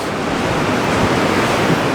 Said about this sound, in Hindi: ये जो जल देख रहे हैं ना ये धौलीगंगा का जल आ रहा है